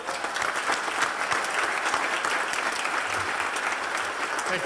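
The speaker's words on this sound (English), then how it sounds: "If we could give her a round of applause" A civic audience gives a sustained round of applause after a national anthem performance at a State of the City event, a continuous even wash of many hands clapping from a large crowd, heard at a distance.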